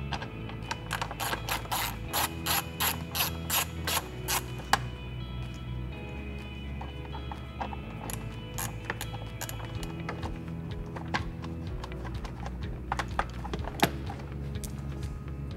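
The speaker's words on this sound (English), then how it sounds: "now we're going to remove these two T25 screws" Two T25 screws come out of the intake on a VW MK5 GTI FSI. A ratcheting driver or tool gives rapid clicking and ticking bursts with short pauses between runs, close and fairly clear, with no talking.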